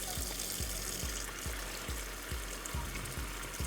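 Water gushes into a basin where raw selvedge denim jeans are soaking. It makes a steady, quiet rushing wash with soft low thumps repeating at a regular pulse throughout, and no talking.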